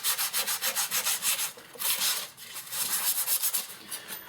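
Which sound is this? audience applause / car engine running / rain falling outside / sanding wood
sanding wood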